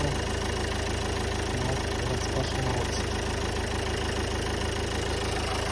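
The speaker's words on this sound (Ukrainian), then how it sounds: "Так мотор робить чітко." A 2011 Renault Megane with a 1.5-litre diesel engine idling, a steady close clattering rumble with an even rhythm throughout, and a brief spoken phrase over it.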